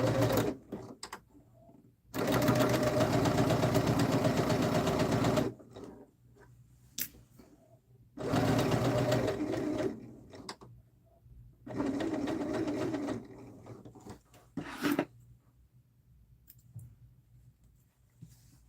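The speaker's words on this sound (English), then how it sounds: "So I'm going to start by sewing my shoulders together. With a 3/8 inch seam." A sewing machine stitches garment shoulder seams in bursts of steady whirring, three long runs of a few seconds each separated by quiet pauses, with small clicks between and no talking.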